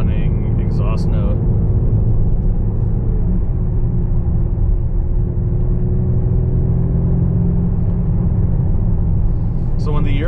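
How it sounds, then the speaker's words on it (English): A 2021 Lamborghini Urus super SUV exhaust note, a steady low rumbling drone held loud and close throughout, with brief higher whistling bursts near the start and end; speech probably mixes in. "It's impossible to not to fall in love with this stunning exhaust note."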